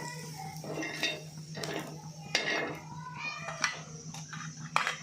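Metal dishes and utensils clink and scrape in a home kitchen as roasted coconut and onion are moved onto a plate, irregular close knocks and rattles with a few sharper clanks, and voices talking underneath.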